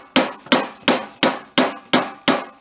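Seven evenly spaced, sharp metallic strikes with ringing tails come from a wrench working on homemade percussion hardware, loud and close with no talk.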